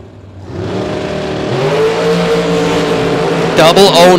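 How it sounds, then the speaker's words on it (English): Bracket-race dragsters roar off the starting line at a drag strip, a loud engine howl rising in pitch as they accelerate, with an announcer talking over the noise. "The Miller prepared dragster for Mr. Wirtz."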